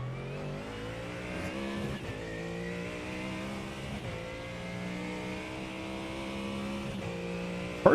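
An Acura NSX GT3 race car in iRacing, its engine droning steadily at high revs with pitch sweeping up through gears and brief dips at shifts, loud and continuous throughout.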